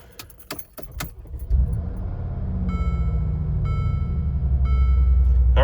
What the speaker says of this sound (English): All right, started right up